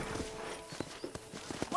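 Horse hooves clip-clop in the Western game Red Dead Redemption, a quick run of close, distinct hoof strikes over about two seconds, mixed with faint game ambience.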